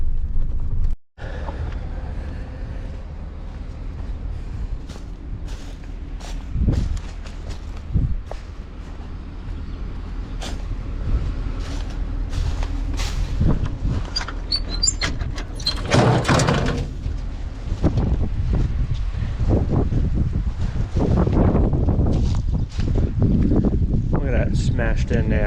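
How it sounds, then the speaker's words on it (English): A loaded truck tipping and emptying its bed at a dump, with creaking, clanking mechanism noise and a rushing, rumbling spill of debris building toward the end, wind on the microphone throughout. "I'm gonna dump the truck."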